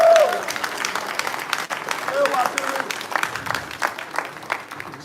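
An audience at a political press conference applauds a presidential candidate, a steady wash of clapping lasting about five seconds with faint voices mixed in beneath it.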